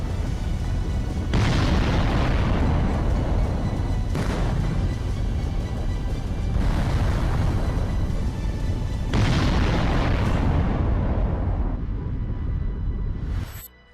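Bombs blast apart the entrance gates of underground tunnels at Isfahan: a run of heavy, roaring explosions at about two-to-three-second intervals, each a loud booming burst that rumbles on without a break until the sound cuts off abruptly.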